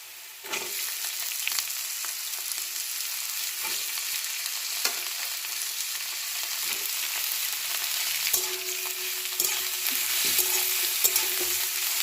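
Potatoes sizzle steadily in a hot pan for semolina upma, broken by repeated scraping knocks of a utensil stirring them.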